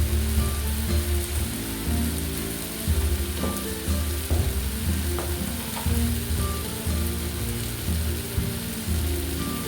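Onions and tomatoes fry in a pan for a Kerala-style chicken fry, giving a steady, close, dense sizzle with occasional light crackles and stirring, and no talking.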